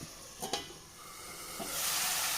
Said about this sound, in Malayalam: നമുക്ക് നല്ല പോലെ ഇളക്കി കൊടുക്കാം